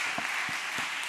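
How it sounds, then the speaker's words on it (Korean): A congregation claps in a steady beat during a Friday night prayer service at a church, four short even claps in quick succession over a constant hum of room sound. "박수 한번 하겠습니다"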